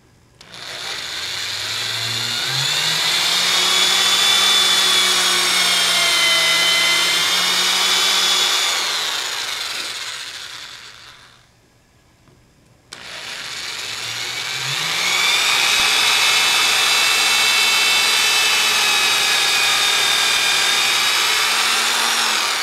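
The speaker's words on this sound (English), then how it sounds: "now we're going to drill the holes for the mounting screws" Power drill boring mounting screw holes into a guitar body for a Bigsby B7 vibrato tailpiece, the bit taped for depth; two long whining runs with the motor pitch rising and holding, separated by a brief pause, close and loud.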